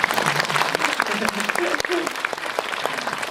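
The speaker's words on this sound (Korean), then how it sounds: "박수 한번 치고 갈까요?" Audience at a Korean film stage talk event applauding: dense, steady clapping from a crowd throughout, close and fairly loud, with some voices mixed in underneath.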